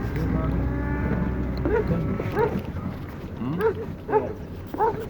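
A cow moos several times outdoors, with short rising-and-falling calls in a loose series. People talk throughout, and a dog may bark nearby.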